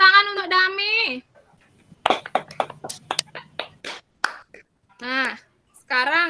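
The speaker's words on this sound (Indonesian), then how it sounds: "tepuk tangan untuk Dami." A classroom of children gives a short burst of rapid hand clapping for a classmate, lasting about two seconds between a woman's speech and children's voices.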